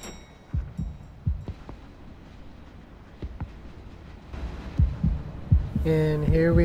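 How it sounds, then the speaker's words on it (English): In the Mafia video game, a heartbeat sound effect throbs as a series of low thumps in an irregular pulse, growing stronger toward the end before a brighter tonal sound cuts in. "The heartbeats."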